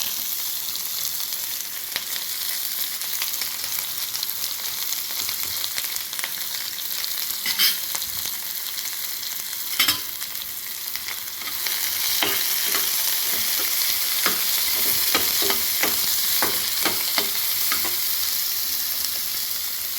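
Finely chopped onion sautéing in a pan sizzles steadily for the whole stretch, with frequent sharp scrapes and taps from stirring that grow busier toward the end; no voices.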